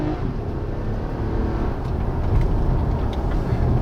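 A 2020 Toyota Camry XSE V6 accelerates from inside the cabin. The engine and road noise form a steady, broad rumble that gradually builds in loudness. There is no talk.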